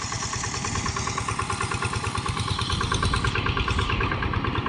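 A tractor ploughs a flooded rice field, its engine running with a steady, loud, chugging clatter and a fast, even pulse that continues without a break.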